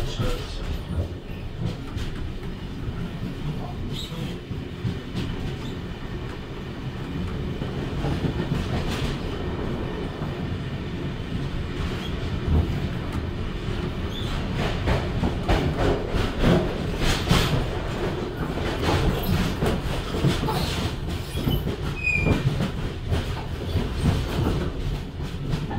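A passenger train runs between Strathfield and Central in Sydney, with a steady rumble and rhythmic clickety-clack of wheels on rail joints, loud and close throughout from inside the carriage, and no talk.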